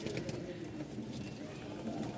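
Long-tail pigeons coo in a low, continuous murmur, close and steady, blending with general background noise.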